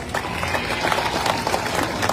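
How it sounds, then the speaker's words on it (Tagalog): A crowd at a food box distribution claps for the staff, a dense patter of many hands that stays steady throughout. "Pwede ba palakpakan natin yung mga staff natin?"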